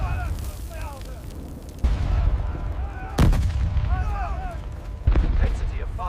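WWII desert combat with heavy battle gunfire and tank fire: several deep booming blasts land a few seconds apart over a continuous rumble of distant shooting, with whistling sounds between them.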